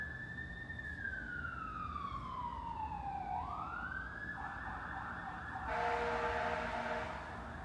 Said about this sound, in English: That was more like a fire brigade, not ambulance.